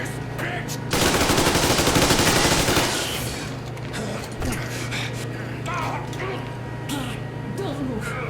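Gunfire in the video game Metro Exodus, a dense burst of rapid automatic shots lasting about two seconds, followed by scattered impacts and combat noise, with voices shouting around it.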